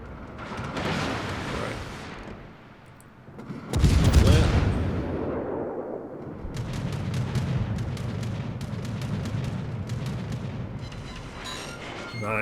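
Incoming naval gunfire in World of Warships aimed at the British tier 8 premium heavy cruiser Cheshire: loud booming impacts with a heavy blast near four seconds, then a rapid crackling series of shots under a rumbling background.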